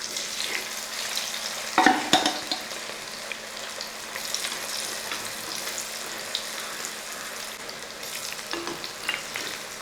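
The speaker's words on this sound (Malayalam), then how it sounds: "ഇനി ഈ പുരട്ടി വെച്ചിരിക്കുന്ന സോയ ചങ്ക്സ് നമുക്ക് ഈ എണ്ണയ്ക്കകത്തോട്ട് ഇട്ട് കൊടുക്കാം." Marinated soya chunks deep-frying in hot coconut oil give a steady, busy sizzle and bubbling throughout, with a couple of brief louder clatters early on and no talking.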